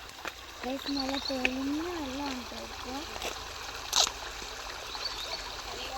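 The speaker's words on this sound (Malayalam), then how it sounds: "നല്ല കളകളാ ഒച്ച കേൾക്കുന്നു എനിക്ക് തോന്നുന്നു" A river babbles steadily in the background while a person talks over it, with a few sharp clicks.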